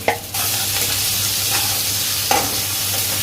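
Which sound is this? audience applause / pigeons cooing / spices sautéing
spices sautéing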